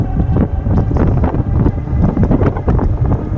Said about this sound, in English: Got a little bit of a headwind, so this thing's going to be affected in this direction.